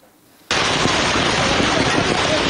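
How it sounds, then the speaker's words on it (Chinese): Hailstones pounding down during a storm in northeast China, a sudden loud, dense, continuous roar of rattling impacts that starts abruptly after a quiet moment. "天降冰雹俨然像机关枪一样狂轰滥炸，不但街头的车辆遭殃，就连马路都变成了流淌的冰河。"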